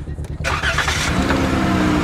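A car that has just been struck by lightning cranks briefly, then its engine catches and settles into a loud, close, steady idle.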